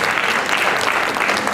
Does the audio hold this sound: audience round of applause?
yes